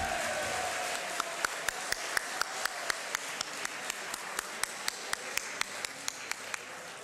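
Steady audience applause fills a poetry mushaira in Khushab, a dense wash of many hands with sharper rhythmic claps punctuating it at an even beat throughout.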